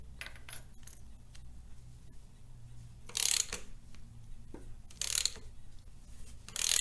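A ratchet fitted with a 15/16 socket turns a bolt on a Dodge, Jeep, Chrysler or Mitsubishi harmonic balancer, giving bursts of rapid metallic clicking close by, with quieter gaps between and no talking.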